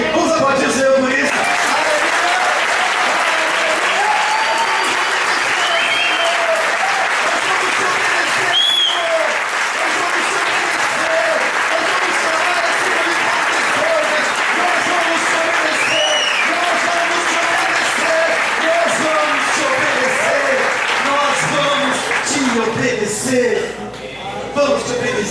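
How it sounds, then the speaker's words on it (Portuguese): A church congregation at a worship service applauding for a long stretch, loud and sustained, with shouting voices and sung phrases rising over the clapping, which thins briefly near the end. "Vamos aplaudir o Senhor por isso."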